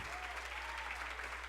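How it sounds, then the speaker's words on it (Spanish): Church congregation clapping together as an offering of applause, a dense, continuous patter of many hands, faint and somewhat distant throughout. "Le vamos a regalar una ofrenda de palmas a ese que viene."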